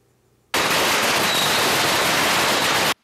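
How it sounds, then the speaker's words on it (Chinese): A dense string of firecrackers goes off at a street campaign rally in Dajia, Taichung, welcoming a campaign truck: a loud, unbroken crackling barrage that starts abruptly and runs for over two seconds before stopping sharply. "支持民众兴奋，放鞭炮迎接"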